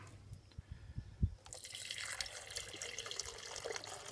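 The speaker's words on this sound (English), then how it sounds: "So let me pour this water in here," Water pours into a small 4-cup drip coffee maker in a camper van, with a few knocks and handling clunks first, then a steady splashing trickle, fairly quiet.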